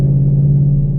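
A 2015 Mustang GT V8 with a Gibson Performance exhaust idles with a loud, steady, deep rumble close by, holding an even note throughout.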